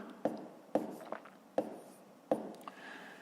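Pen or pencil writing numbers by hand on paper for column addition, four distinct scratchy strokes and taps spaced under a second apart, close and quiet with no talk.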